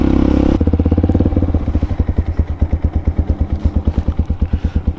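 A motorcycle on a dirt trail along a river bed, its engine chugging in a steady, loud, close pulse that thumps evenly throughout, with a brief rougher burst at the start.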